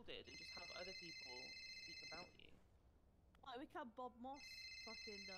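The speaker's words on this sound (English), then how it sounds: "Well, whose phone is ringing?" A phone in the video game GTA rings with bright repeated electronic trills, two bursts separated by a pause, loud over people chatting.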